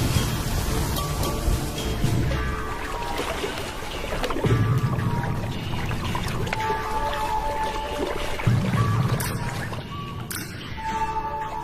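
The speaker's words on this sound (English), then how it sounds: "The first real rains for a year." Africa's first real rains in a year fall steadily, a dense wash of pouring and splashing water that stays loud throughout, with soft tonal sounds threaded faintly underneath.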